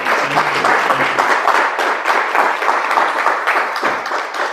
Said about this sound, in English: let's please give our two panelists a round of applause for such wonderful presentations